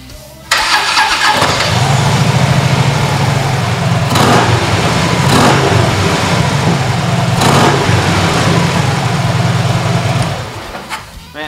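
A 2013 Harley-Davidson Road Glide Ultra with RC Components exhaust pipes starts up and runs, its loud, deep engine rumble held steady close by, with a few sharp throttle blips along the way and no talk.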